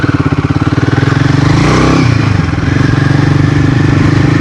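A motorcycle engine revs and pulls while riding on a gravel adventure trail off the Napier–Taupo highway, a loud close throbbing that rises and swells midway then settles back to a steady rhythmic drone.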